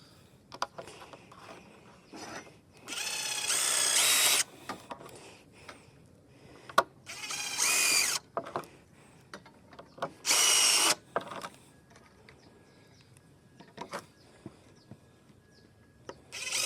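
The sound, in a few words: power drill driving screws into Trex railing brackets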